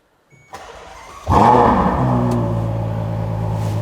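A sports car engine cranks briefly on a cold start, then catches and roars to life with a loud rev before settling into a steady, throaty idle close by.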